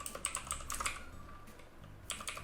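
Computer keyboard typing during Photoshop work, a quick run of clicky keystrokes in bursts with a short pause in the middle, close and moderately loud.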